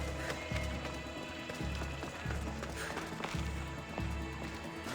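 Horse galloping in Assassin's Creed Odyssey, a steady rhythmic run of hoofbeats under a busy game soundscape with music, moderately loud and continuous.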